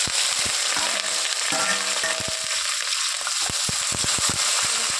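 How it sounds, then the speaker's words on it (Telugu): Chopped onions with green chillies fry in a pan while making tomato rice, a steady close sizzle with irregular crackles and pops throughout, alone with no talk. "ఆనియన్ చక్కగా ఫ్రై అయిపోయాయి"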